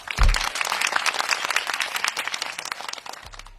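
A crowd applauds at an Ivorian celebration of a gold record for Himra and Didi B, dense steady clapping with a thump at the start and a low rumble near the end.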